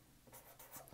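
Marker or pen writing numbers on a surface, a soft scratchy stroking in several short bursts, close and quiet with no talk.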